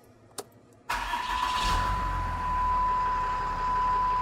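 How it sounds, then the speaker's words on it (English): Vehicle engine fitted with a PowerHalt PH3 MKII air intake emergency shut-off valve: a short beep, then a quick crank and catch into a steady, loud, close idle that holds, with a high whine running over it. "Now you can start your engine."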